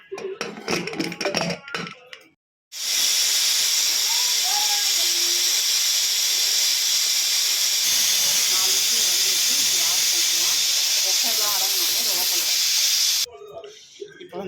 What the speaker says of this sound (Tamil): குக்கரை மூடி ஒரு மூணுலேருந்து நாலு விசில் விட்டு எடுத்துக்கலாம்